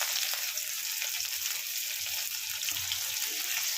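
Finely chopped onion fries in hot oil, turning crisp, with a bright, continuous close-up sizzle and no talking.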